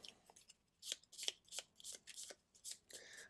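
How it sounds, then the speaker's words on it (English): A deck of Gloomhaven cards is shuffled by hand in a quiet room, making a series of quick, crisp riffling bursts in an uneven rhythm. "we do need to shuffle this entire deck of cards"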